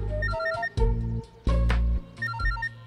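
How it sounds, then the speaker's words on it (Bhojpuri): A mobile phone ringtone plays a repeating electronic melody of short tonal phrases, loud and close, with no one talking. "बाबूजी के फोन आ गल"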